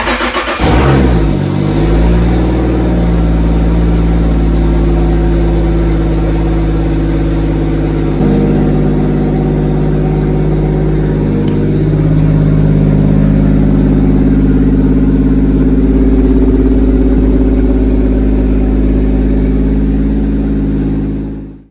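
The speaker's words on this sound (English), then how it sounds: "I am gonna attempt to start it" A newly single-turbo car engine cranks, catches and roars to life, then settles into a loud, steady idle with a constant low hum that runs for about twenty seconds.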